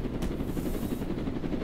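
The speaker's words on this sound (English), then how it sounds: "We're just gonna drag this car with the helicopter." Helicopter in Roblox Jailbreak: a steady, close, loud rotor chop with rapid, even pulsing that continues throughout, alone without voices.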